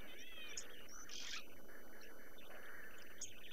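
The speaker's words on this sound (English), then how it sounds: "I can hear some oxpeckers as well, which are also hole-nesting birds" Oxpeckers call from a tree in the African savannah around sunset, giving faint scattered chirps and short buzzy notes against a quiet background hiss.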